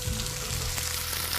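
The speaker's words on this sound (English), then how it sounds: "My pan's nice and hot, so first I'm gonna add in some olive oil, then I can throw in my potatoes and let these brown." Potatoes frying in hot olive oil in a pan for Spanish tortilla, a steady close sizzle and crackle with a low rumble underneath, continuous throughout with no talking.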